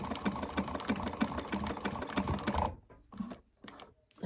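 A sewing machine back stitching runs quietly in a rapid, even chatter for a couple of seconds, then stops and restarts in short bursts, with no talk.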